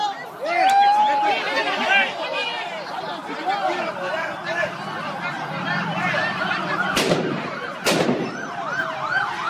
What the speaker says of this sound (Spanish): Hay detonaciones. Están aventando petardos hacia seguridad pública.